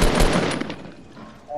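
Gunfire in the video game Fortnite: a short burst of rapid shots, loudest at the start and fading, with a voice talking over it.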